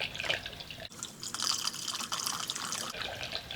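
Water runs and drips steadily into the tanks of a plasma cutting table's water tray, a continuous close trickle and splash with scattered drip accents and no talk.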